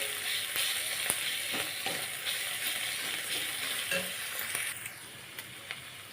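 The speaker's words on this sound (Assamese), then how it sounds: "আদা নহৰু পেষ্টখিনি পিয়াজৰ লগত মিক্স কৰি ভাজি লওঁ অলপ" Ginger-garlic paste and onions sizzle steadily in a hot pan, a dense crackling hiss with occasional scraping stirs, close and continuous, no talking.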